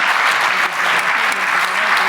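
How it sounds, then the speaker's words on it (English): Audience applause at an inclusive education conference session, a steady dense wash of clapping that carries through the whole stretch with only a slight dip partway, loud and close with no voices over it. "Can we give them one last round of applause"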